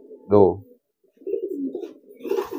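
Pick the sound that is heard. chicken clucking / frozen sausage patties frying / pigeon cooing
pigeon cooing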